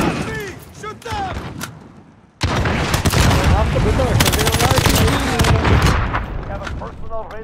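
Sustained bursts of video-game gunfire roar loud and dense for several seconds after a brief quieter stretch, with players talking over and between the shots.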